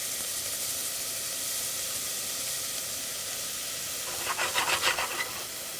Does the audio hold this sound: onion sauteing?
yes